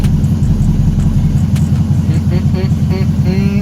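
A 392 engine fitted with a JLT cold air intake rumbles loudly and close as the car pulls away, a deep steady drone throughout.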